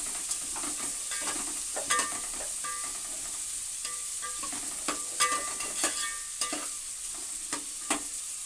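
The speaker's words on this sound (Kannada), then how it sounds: "ಒಗ್ಗರಣೆಗೆ ಒಣಮೆಣಸಿನ್ಕಾಯಿ ಈರುಳ್ಳಿ ಕಡಲೆಬೇಳೆ ಸಾಸಿವೆ ಹಾಕಿದ್ದೀನಿ" Dried red chillies, onion, chana dal and mustard seeds fry in hot oil for a tempering, giving a constant close sizzle with frequent light spatula scrapes and small popping clicks scattered across the clip.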